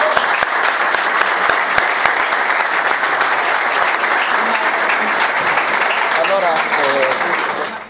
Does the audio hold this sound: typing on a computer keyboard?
no